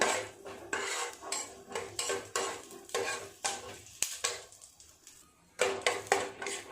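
Dry fruits are stirred and fried in hot ghee in a pan for laddoos, making repeated scraping spoon strokes and metallic clinks over a soft sizzle, close and steady, with no talk.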